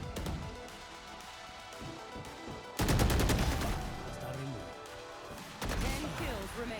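Video game gunfire in rapid bursts, a loud volley of sharp shots followed later by another burst, layered over game music and background noise, with a player's voice talking throughout.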